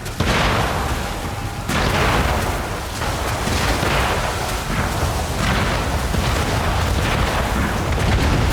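Mortar rounds crashing down in a video game fight, a sustained loud barrage of booming blasts with repeated heavier impacts every second or two over a constant rumble.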